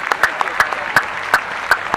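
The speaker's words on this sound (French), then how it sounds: "je t'aimerais que nous applaudissions Tiffane parce que c'est un bel témoignage pour ce fait là" Audience at a youth conference debate clapping in applause, a brief burst of sharp, evenly spaced claps close by, loud and crisp.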